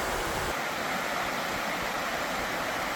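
Steady broadband roar of Angel Falls, the world's highest waterfall in Venezuela, heard from far off as a constant, even wash of falling water with no talking.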